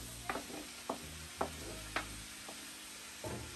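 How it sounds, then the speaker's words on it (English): Food frying in edible shea butter in a pan, a soft steady sizzle running under a few distinct clinks and taps of a utensil against the cookware, spaced irregularly, fairly quiet and with no talking. "can see it frying under there beautifully"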